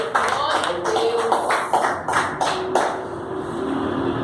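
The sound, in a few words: congregation applauding in church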